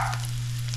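Crab cakes fry in a pan on the stovetop, a brief, steady, close sizzle under a low constant hum.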